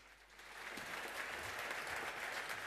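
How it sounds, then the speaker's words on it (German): An audience welcomes the speakers at a hardware hacking talk with warm applause, many hands clapping steadily and building slightly in the opening moments before holding level. "Einen herzlichen Applaus."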